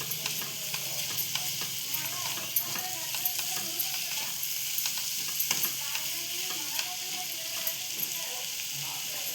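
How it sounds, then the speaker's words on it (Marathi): Prawns with onion and tomato masala sizzle in a pan while being stirred, the spatula scraping and clinking in steady uneven strokes over a constant frying hiss. "आता सगळ्या कोलंबीला आपण आणि कांदा टोमॅटोला लागले पाहिजे मसाला असा फिरवून घेऊन आहोत"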